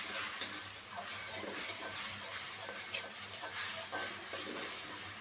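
Spice paste (masala) frying in a pan as it is cooked down, a constant close hiss and sizzle broken by stirring scrapes, with no talking.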